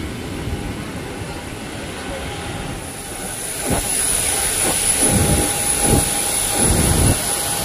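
On the apron while passengers board a Boeing 737-800, a steady, loud jet engine whine and roar fills the air, with a few dull thuds and knocks as people walk toward the aircraft.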